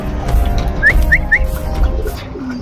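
Racing pigeons arriving at the loft after a club race give three quick, rising chirping calls over a steady outdoor background hum.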